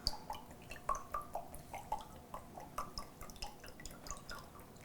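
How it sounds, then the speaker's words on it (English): Coconut water trickles and drips from a pierced brown coconut, a quiet, irregular run of small close droplets and splashes with no talking. "There's a lot of water still in it."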